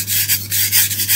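Knife blade rubbed on a coarse whetstone of about 400 to 600 grit, a loud close rasping scrape in quick repeated strokes with a steady low hum underneath.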